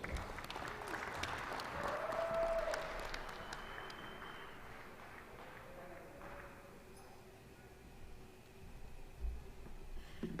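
A commencement crowd at SUNY Oswego claps in a rousing round of applause, loudest early on and then tapering into scattered clapping with faint background noise and a whistle-like tone.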